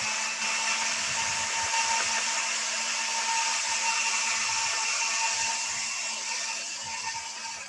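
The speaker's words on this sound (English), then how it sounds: "I'm going to hit it with a dryer real quick" Hair dryer blowing over wet watercolor paint, a steady close whooshing roar with a faint whine that runs unbroken from start to finish, easing off slightly at the very end.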